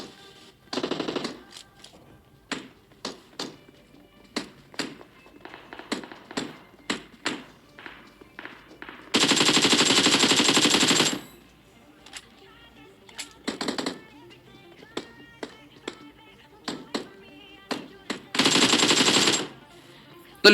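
Gunfire in a PUBG match as a squad is wiped out: sharp single shots and bursts crack out over about twenty seconds, with two long sustained automatic volleys, loud and close.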